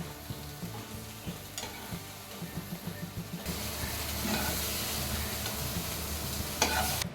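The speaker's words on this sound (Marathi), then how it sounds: "थोडं बटर टाका आणि हे स्वीट कॉर्न टाकून याला दोन मिनिटभर परतवून घ्या" Sweet corn kernels sauté in butter in a pan with a steady sizzle and scraping stirring clicks, growing louder and denser partway through, with no voices.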